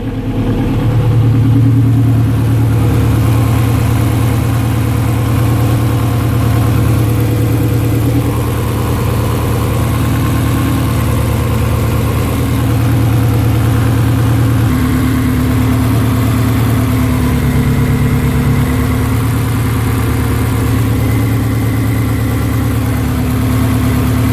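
A 2005 Ferrari 360 Modena engine idles steadily up close, a loud, even low hum with a slight rise and fall in pitch throughout and no talking over it.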